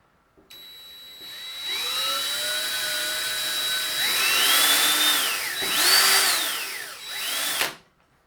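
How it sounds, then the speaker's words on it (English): A power drill whines loudly at high pitch, its tone rising and dipping as it bites into a pump in several pushes, then stops abruptly. "we're going to drill a hole in this pump"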